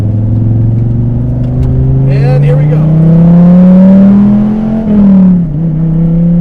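A DSC Sport-tuned Dodge Viper TA on the Summit Point track, its engine droning loud and steady with a rising pitch under acceleration, then a brief dip as it lifts off before pulling again; someone talks over it.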